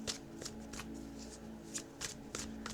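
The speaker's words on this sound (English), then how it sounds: "Let's just end with pulling some advice and guidance cards." Advice and guidance cards being shuffled by hand during a tarot-style reading, a steady papery riffle with several brighter flicks, close and fairly quiet with a low hum beneath and no talking.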